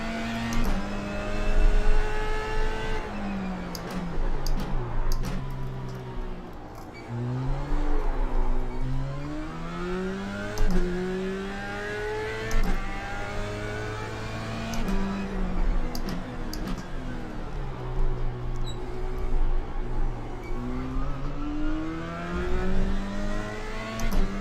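A race car engine in a racing game revs and climbs through gears, its pitch rising and dropping repeatedly in long sweeps, loud and continuous throughout.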